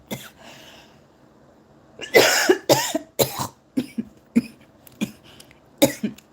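A run of harsh, close coughs, a cluster of heavy hacking bursts followed by several shorter, spaced coughs, preceded by a faint breathy sound.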